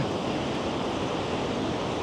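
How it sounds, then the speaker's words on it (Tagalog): Large ocean waves break where a brown river mixes into the sea near Tangier, a continuous loud wash of surf with wind noise and no break in the roar. "Ang lalaki ng alon talaga"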